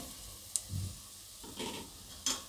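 Potato pieces go into a pan of sizzling onions and spices, bringing a few soft stirring scrapes and short bursts of frying sizzle, fairly quiet and close, with no talk.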